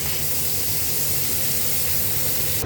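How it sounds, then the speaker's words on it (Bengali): Prawns fry in hot mustard oil in a heated kadai, giving a loud, dense, continuous sizzling hiss that runs unbroken and close throughout. "কড়াই গরম হয়ে গেছে আমি তেল দিলাম সর্ষের তেল তাতে চিংড়ি মাছটা ভেজে নেব"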